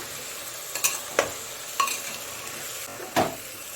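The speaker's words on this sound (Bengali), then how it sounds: "এবার মটরটা দিয়ে দেবো। একসঙ্গে আরেকটু ভেজে নেব।" Peas soaked overnight are fried and stirred in a pan, with a soft steady sizzle under several distinct scraping and clinking stirring strokes, close by.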